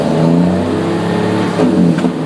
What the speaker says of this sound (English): And I'm going to bring my RPMs up.